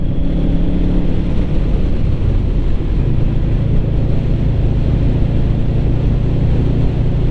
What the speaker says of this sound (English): Get a nice burbly engine note.